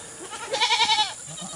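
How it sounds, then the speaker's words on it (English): A small herd of goats on a farm bleats, with one close, wavering bleat pulsing in quick repeated quavers, then fading into quiet background. "But this is our little goat herd."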